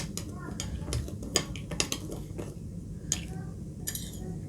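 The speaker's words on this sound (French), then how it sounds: "on va prendre juste une petite cuillère de sucre qu'on va mélanger" A small metal spoon stirs sugar into milk in a bowl, clinking against the side in irregular taps and scrapes, close and fairly soft.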